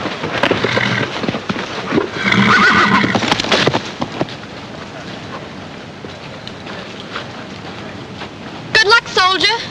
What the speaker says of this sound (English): Get a horse ready.